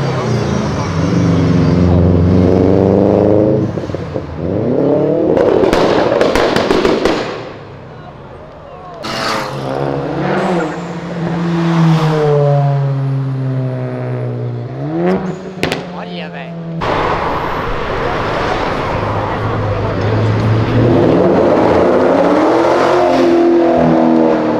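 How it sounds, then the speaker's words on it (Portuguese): An orange Jaguar car revving hard on an avenue, its engine rising and falling in repeated loud, close bursts of acceleration, with people talking over and between the revs. "mostrou o ronco do carro"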